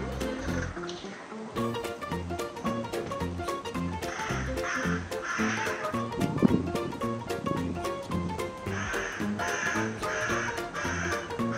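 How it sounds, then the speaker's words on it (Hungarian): A raven caws repeatedly over a steady, busy background, harsh calls coming in bursts at moderate distance while it harasses two cats. "Ez a holló addig idegelte a két macskát, míg végül kőkemény leszámolás alakult ki."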